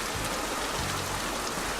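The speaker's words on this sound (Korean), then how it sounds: "근데 진짜 왜 자꾸 비가 오는 거지?" Rain falling in a children's science cartoon about the water cycle: a continuous, dense hiss of steady rainfall at an even level, with no voices.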